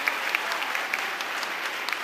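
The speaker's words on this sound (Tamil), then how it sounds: "இந்த கைத்தட்டலே தெரியலையா நட்பு எவ்வளவு பெருசுன்னு" Audience at a Tamil debate stage show on friendship applauds, a continuous wash of many hands clapping, even and moderately loud, with a few sharper claps standing out.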